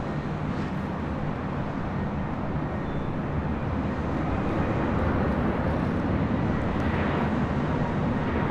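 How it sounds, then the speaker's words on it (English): A Delta A319 airliner arriving at Los Angeles International Airport from San Francisco, a steady low engine rumble and rushing noise holding evenly throughout, heard at a distance with no voices. "It's flight A319 with Delta also coming in from SFO."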